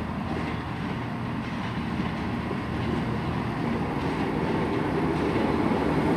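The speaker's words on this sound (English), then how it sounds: "coming in now is a pair of Arriva Trains Wales 158s" A pair of Arriva Trains Wales Class 158 diesel units pulls into Shrewsbury station from Birmingham, giving a steady, close, broadband rumble that swells slightly as they arrive, with no talking.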